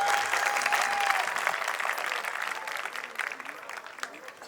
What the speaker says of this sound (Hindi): तो आपकी जोरदार तालियां